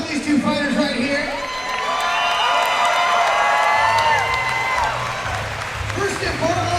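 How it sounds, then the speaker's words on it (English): Crowd at a fight event cheering and applauding two fighters, a loud continuous roar of clapping and whoops with voices mixed through it. "give a round of applause for these two fighters right here"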